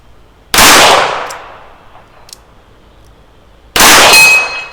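Shots from a Smith & Wesson Model 19 revolver striking a steel target: two loud, sharp cracks with a ringing clang that fades, separated by a few seconds of near quiet.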